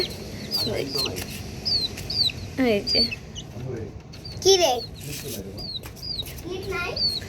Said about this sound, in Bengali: এই যে আমার মুরগির বাচ্চাগুলো একটু বড় হইতেছে